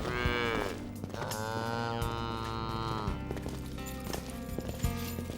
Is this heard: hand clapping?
no